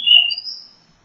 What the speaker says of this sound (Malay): Bunyi burung lagi lah.